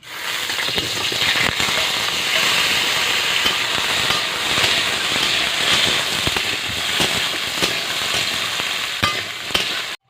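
Pumpkin pieces hit hot oil seasoned with bay leaf and panch phoron and fry in a steady, loud, dense sizzle with crackling pops, continuing without a break and with no voices.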